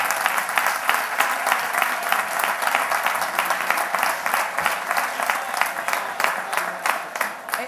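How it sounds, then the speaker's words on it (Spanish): Sustained audience applause at an olive oil festival day in Periana, steady dense clapping from a crowd that carries through the whole stretch without speech. "Un aplauso"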